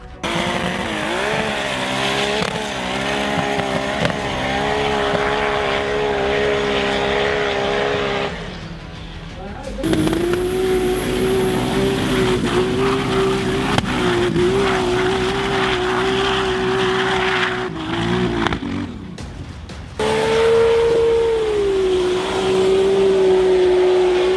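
Race car engines revving hard as the cars climb a steep sandy hill in an off-road race, loud sustained droning that rises in pitch, with two short gaps between passes.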